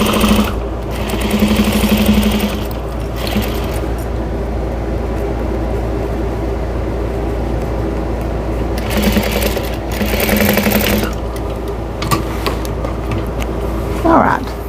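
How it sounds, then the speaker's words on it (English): Sewing machine running in steady bursts while stitching a straight seam across a towel at 2.5 stitch length, with backstitching, close and continuous with short pauses, under low talk. "So I'm going to sew straight across here."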